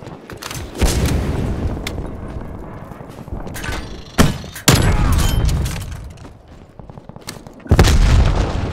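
Proximity mine explosions in Call of Duty Cold War multiplayer: several heavy, loud booms land a few seconds apart, separated by quieter rumbling and scattered gunfire.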